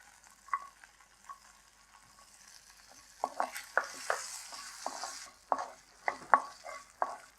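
Black pepper and dal sauté in a pan with a soft, quiet sizzle, punctuated by scattered scraping and clicking stirs that grow busier in the second half.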